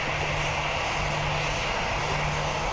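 Airplane engine roaring steadily as a plane flies low, a dense continuous drone with no talk.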